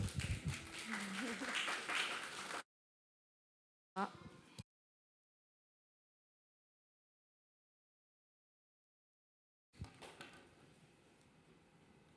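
An audience at a church gathering claps to welcome speakers. A dense burst of applause is cut off abruptly, followed by a short blip and then quieter room sound with talk.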